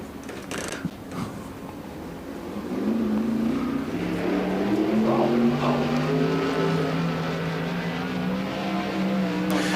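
410 sprint cars race at Port Royal Speedway, their engines roaring loud and continuous, rising and swelling as they drive through turns 3 and 4.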